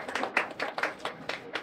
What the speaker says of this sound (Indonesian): itu yang buat tepuk tangan dulu dong